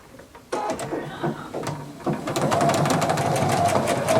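Sewing machine stitching a straight line, a little over half an inch, across the top of a fabric mask; a few short bursts give way to a steady, close, continuous whir.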